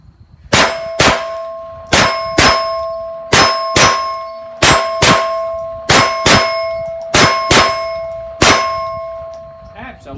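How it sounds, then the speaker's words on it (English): A steel target shot with a .22 pistol from five yards rings out with a dozen sharp, loud metallic clangs, each hit followed by a short ringing decay, spaced about a second apart. "I'm going to shoot it with our 22 pistol."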